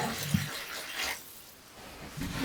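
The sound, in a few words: warm water poured into focaccia dough ingredients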